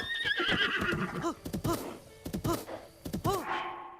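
A horse in the video game The Legend of Zelda: Breath of the Wild gives a high, drawn-out whinny, then hoofbeats clip-clop in short bursts while it is ridden, fairly quiet and close.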